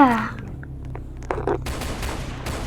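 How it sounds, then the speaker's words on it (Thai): A water gun fires in the Roblox game Brookhaven during a Songkran water-festival roleplay: several short, sharp bursts of game shooting sounds over background music, with voices mixed in. "นั่นแหละปืนฉีดน้ำอ่ะ ปืนฉีดน้ำแบท"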